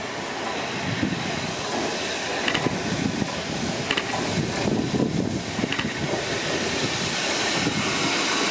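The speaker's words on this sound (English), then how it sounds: "Now the train is arriving into platform." Train hauled by 45596 Bahamas arriving at a Gloucester Station platform: a steady, loud rolling rumble with faint clanks and wheel noise, close by and continuous, with no talk.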